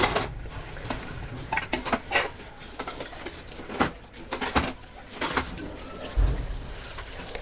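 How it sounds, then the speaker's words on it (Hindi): Washed dishes and utensils are stacked in a home kitchen, with a series of close, irregular clinks and clatters of pots, plates and cutlery under faint background noise. "इसके बाद फिर बर्तन भी सारे धो दिए, जो नाश्ते के थे वो भी"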